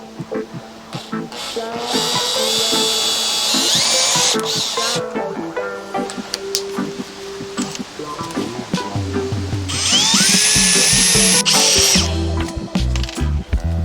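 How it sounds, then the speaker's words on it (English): A power drill whines in two bursts while drilling holes for a camper van kitchen, amid clattering and knocking of tools and wood, with some handling noise between runs. "Then I try to drill the holes."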